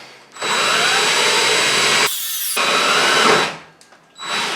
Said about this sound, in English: Blasting a giant hole in a fiberglass shower.